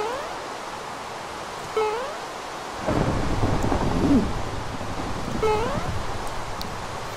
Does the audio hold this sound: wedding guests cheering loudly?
no